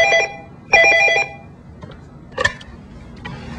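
A telephone rings twice in short trilling bursts, fairly loud and close, followed by a click as the handset is picked up and a faint rustle in a quiet room.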